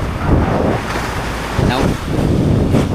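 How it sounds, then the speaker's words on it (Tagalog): Pacific Ocean waves slapping and spraying over a small boat out at sea, bursts of splashing amid heavy wind noise buffeting the microphone, loud and close throughout. "Sulat talsik dagat dito. Talsik ang dagat."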